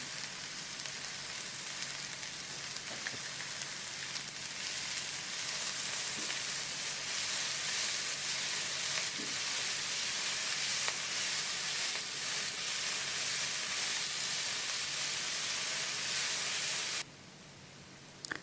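Steady loud sizzle of purslane and onion frying in a hot pan, a continuous crackling hiss that holds for many seconds before abruptly dropping near the end.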